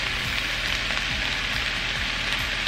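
Zucchini, onions and minced garlic frying in a hot pan, giving a steady, dense sizzle with faint crackles throughout, close and alone.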